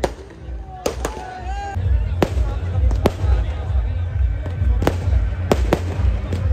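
Fireworks burst at a rainy Dussehra celebration in Alwar, sharp bangs and crackles at irregular intervals over a dense, noisy crowd murmur.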